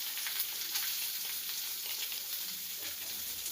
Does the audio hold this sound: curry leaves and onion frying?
yes